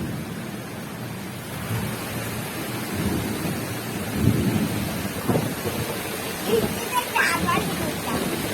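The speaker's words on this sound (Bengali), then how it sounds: "এই ভালোই বৃষ্টি হবে।" Steady rain falls through a monsoon-season thunderstorm after intense heat, a continuous wash of noise with low rumbles building near the middle. Voices talk faintly in the background at times.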